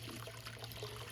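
Water trickling steadily in a garden water feature among stacked slate rocks, a soft continuous splashing and bubbling over a low steady hum, close by.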